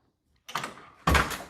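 Close, loud door action on a 1974 Ford Maverick with worn hinge pins and bushings: a brief rattly opening sound followed half a second later by a solid, heavy shut.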